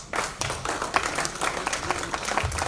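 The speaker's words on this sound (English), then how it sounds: "Please give a big round of applause to Dr. Swarup." Audience applause for a doctor after his talk, steady clapping from a crowd filling the room and holding evenly throughout.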